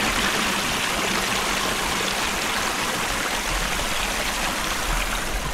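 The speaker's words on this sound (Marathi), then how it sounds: "फक्त तुम्हाला पाण्याचा आवाज ऐकली" A forest stream flowing continuously, a dense, loud, steady rush of water close by with no breaks.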